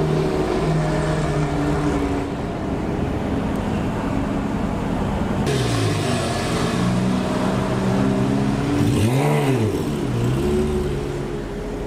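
A Lamborghini Aventador fitted with an IPE exhaust revs loudly in a London street, with rising and falling engine sweeps, a sharp blip near the end and steady traffic noise throughout.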